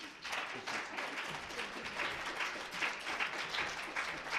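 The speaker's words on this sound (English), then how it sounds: "If you give a big round of applause for Congressman Filner for coming and speaking to us today." Applause for Congressman Filner at the closing session of a California Community Colleges veterans summit: quiet, distant clapping from an audience, swelling and fading in uneven bursts, without speech.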